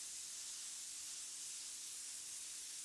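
DeVilbiss SRI 0.8 spray gun at 35 psi spraying water-based paint, a faint, steady airy hiss that holds evenly throughout with no voices.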